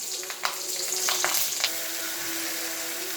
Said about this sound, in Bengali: তেল গরম হওয়ার পরে এতে কালো জিরে দিলাম আর কাঁচা লঙ্কা দিলাম